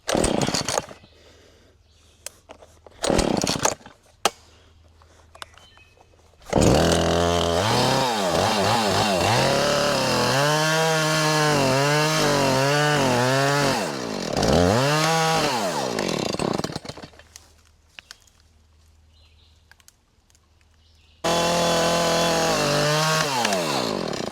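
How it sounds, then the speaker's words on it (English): A chainsaw revs loudly and cuts through wood in long sustained bursts while building a bridge, the engine pitch rising and falling, dropping to a low idle in between, the saw tending to stall. "Chainsaw wants to keep dying out, but it's all right."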